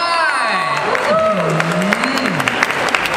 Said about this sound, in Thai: ปรบมือได้